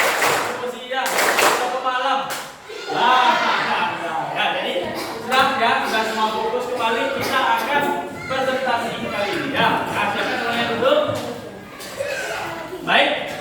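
A classroom of children chants a rhythmic 'tepuk pagi, tepuk siang' clapping game, sharp handclaps punctuating loud group voices in a steady repeating pattern throughout.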